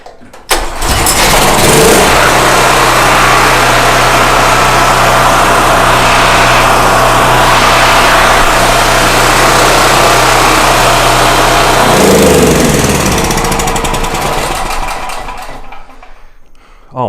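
A portable generator engine starts right after a carburetor repair and runs at a loud, steady drone for about eleven seconds. It then drops to a lower, rougher idle and fades out near the end.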